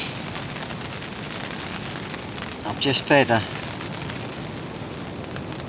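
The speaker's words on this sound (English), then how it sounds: "It started raining now." Rain patters steadily at a fishing lake, an even hiss throughout, with someone speaking briefly over it partway through.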